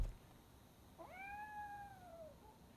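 A cat in the game Robocop: Rogue City gives a single clear drawn-out meow with a rising then slowly falling pitch, lasting about a second over a quiet background.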